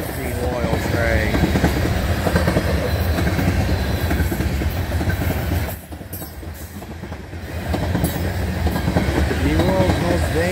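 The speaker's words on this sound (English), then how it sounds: "Empty oil train." An empty crude oil freight train rumbles past nearby, loud continuous wheel and wagon noise with rhythmic clatter and brief squeals, dipping briefly mid-pass before swelling again.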